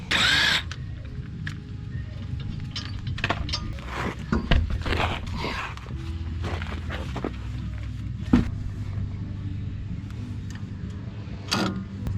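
Power tool, likely an impact gun, removing wheels from a Nissan Frontier, Pathfinder or Xterra during an upper control arm rebuild, several short bursts and clanks in a garage over a low background rumble.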